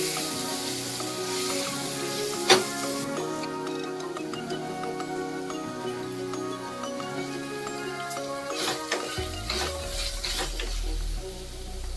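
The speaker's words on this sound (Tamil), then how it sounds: "இப்போ வந்து இஞ்சி பூண்டு பேஸ்ட்டை போட்டு இது கூட வதக்கிடலாம்." Ginger garlic paste sautéing with golden shallots for Pallipalayam chicken, a steady close sizzle with a sharp clank early on and faint stirring ticks throughout.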